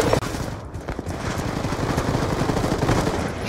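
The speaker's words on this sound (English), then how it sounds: "And then he brings out a shotgun, look at that." Black Ops 2 gunfire from a shotgun: dense, loud, rapid bursts of shots crowd the whole stretch with no pause, close and harsh.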